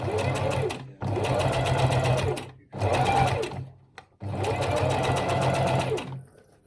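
A sewing machine runs in long continuous bursts while edge stitching a duffle coat, a close, loud mechanical whir that pauses briefly between runs.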